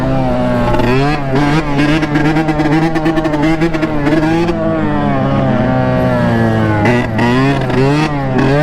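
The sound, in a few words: two-stroke dirt bike engine revving through the gears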